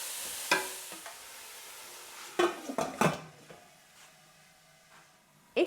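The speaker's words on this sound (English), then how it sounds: "we're going to leave these on a low heat with the lid on" Potatoes with onions and bay leaves, Bombay aloo, cook over low heat. A gentle sizzle runs under a few clattering knocks of a utensil and a lid settling onto the pan, close by.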